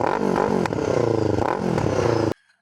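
Kawasaki Eliminator 500 motorcycle engine revved several times nearby, pitch climbing and dropping in quick swells over a clattering idle before the sound cuts off abruptly.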